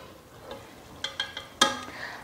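A spoon stirs a pot of Ghanaian soup with ground pepper, giving a few soft taps and scrapes against the pot, faint and spaced out, with one sharper clink near the end.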